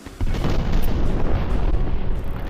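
Cannon bombardment in a toy-soldier American Revolution battle game, with artillery striking a line of troops: a continuous, loud, dense rumble of overlapping booms and blasts that rolls on for the whole stretch without let-up.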